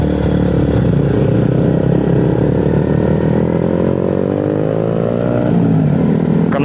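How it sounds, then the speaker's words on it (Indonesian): A Yamaha R15 motorcycle on a busy city street blips and revs its exhaust repeatedly, loud and close, the engine pitch climbing toward the end over steady traffic noise. "Knalpotnya cukup empuk sih, cukup ngegas"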